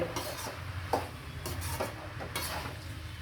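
Vegetable stuffing for wheat roti being stirred and sautéed in a pan, with a spoon scraping and clinking against the metal over a low sizzle, no voices.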